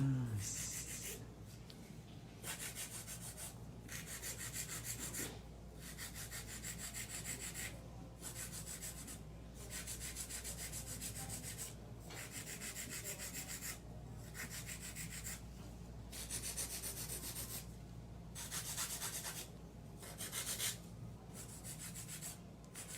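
A nail file works back and forth on acrylic nails during shaping, giving a long series of rapid, regular rasping strokes with brief pauses between bursts, close and moderately soft.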